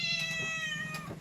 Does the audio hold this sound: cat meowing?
yes